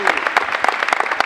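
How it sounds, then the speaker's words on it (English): A gathering celebrating a boys basketball state championship breaks into applause, a brief burst of dense, lively clapping close by. "round of applause for you guys"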